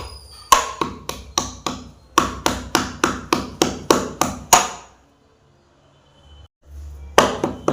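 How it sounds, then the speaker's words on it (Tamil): Dry ginger pounded to crush it: a rapid series of about fifteen sharp, close knocks in two quick runs, then a pause with faint low rumble before more strikes resume. "சுக்கு வந்து உடச்சிங்க உடச்சிட்டு நம்ம நல்லா இடிச்சிடலாம்"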